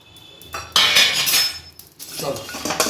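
Whole spices such as coriander and cumin being dry roasted together in a dry pan, with bursts of metallic scraping and clinking as a utensil stirs them against the pan.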